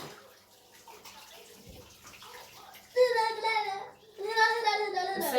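Water pouring from a tap into a pot for bone broth, a steady splashing rush that starts partway through, pauses briefly and resumes, with talk beforehand.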